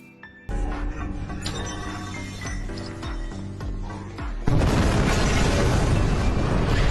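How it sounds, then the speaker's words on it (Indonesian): A sudden loud car explosion bursts out over a busy cinematic music score in the film The Town, leaving a sustained roaring rumble that fills the rest of the clip. "Setelah ledakan keras, mereka pergi."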